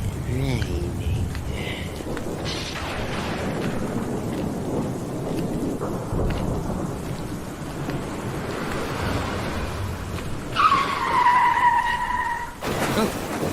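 A rainstorm with steady, broad rain noise and low rumbling, heard close and loud throughout, with people talking over it and a brief vehicle-like swish near the end.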